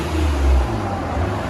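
Limited-trim 2008 Toyota Avalon V6 with dual exhaust, DTM mufflers and the middle resonator kept, giving a deep, low idle rumble, close and steady with a slight swell partway through.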